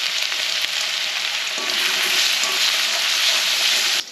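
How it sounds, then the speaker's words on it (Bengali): Whole garam masala with chopped ginger and garlic sizzling and crackling in hot oil, a loud, steady broadband fry holding for several seconds with a few stirring clinks, then cutting off abruptly near the end. "তেলের মধ্যে দিয়ে দেবো গরম মশলা, গোটা গরম মশলা।"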